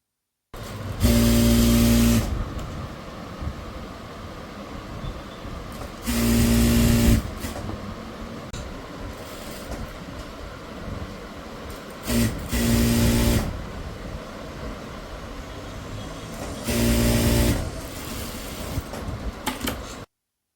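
An electric sewing machine stitches a folded chudithar hem in repeated bursts of loud whirring, each a second or two long, separated by quieter pauses with faint room noise.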